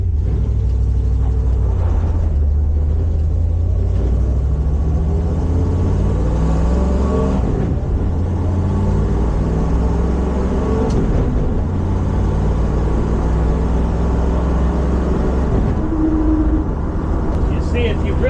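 A 1971 Plymouth Satellite drag car's engine idles and runs with a steady, loud low rumble throughout, while someone talks over it.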